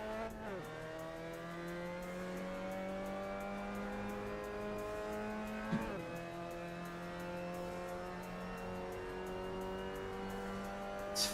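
Skyactiv-engined race car in a racing video game, a sustained engine note rising and falling through gear shifts with a sharp shift near the middle and a brief transient at the end, steady and moderately loud.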